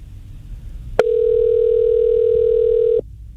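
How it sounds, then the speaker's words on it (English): An outgoing telephone call at a radio station produces a steady, loud dial tone. It starts with a click and holds evenly for about two seconds before cutting off, with no voices. "So we don't know where this phone call is going out to."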